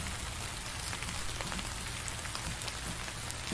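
Steady rain pours in the Dark Nights video game, a dense constant hiss of drops hitting surfaces, even in loudness throughout with no other sounds.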